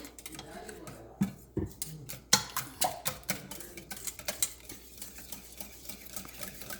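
Eggs with turmeric powder beaten in a bowl, heard as quick, fairly quiet rhythmic clicks and taps of a utensil against the bowl over a low background.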